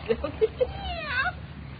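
A cat being put into a bathtub lets out several short, close meows, then a longer rising, wavering cry, fairly loud against a quiet room.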